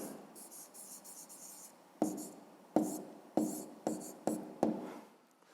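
Pen writing numbers on notebook paper, with soft scratchy strokes followed by a series of sharper taps and short strokes, close and clear, no voices.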